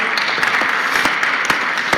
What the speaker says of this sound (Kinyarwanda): bamuhaye amashyi